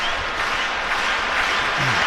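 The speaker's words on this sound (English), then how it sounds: "many now standing and clapping here as Yates tries again" A baseball crowd at a Texas Rangers versus Tampa Bay Rays game stands and claps on a full count, a dense, loud, sustained ovation filling the stadium with faint voices beneath.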